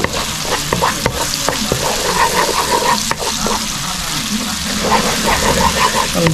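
Onion and garlic sauté in hot frying oil, a loud continuous sizzle with frequent clanking stirs of a spatula against the pan, and no voice over it.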